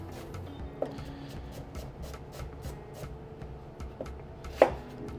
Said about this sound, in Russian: луковицу буду нарезать на такие полуперья